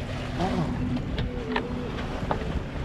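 A boat engine hums steadily at a constant pitch, running at 1500 rpm on a sea passage from Cádiz to Barbate, with wind and water noise washing over it throughout.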